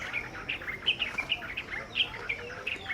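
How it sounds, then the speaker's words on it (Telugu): Several small birds chirp and tweet in the early morning outdoors, short bright calls repeating in quick irregular bursts over a soft background hush. "సో ఎర్లీ మార్నింగ్ ఇలా ప్లెజెంట్ పక్షుల సౌండ్"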